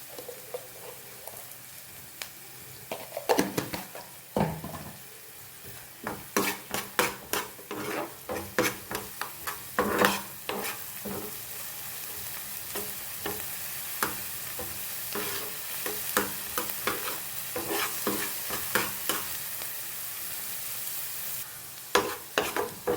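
Capsicum and onion sautéing in a pan with salt and chilli flakes, a soft steady sizzle broken by repeated scraping and stirring strokes of a spatula against the pan, close and alone without talk.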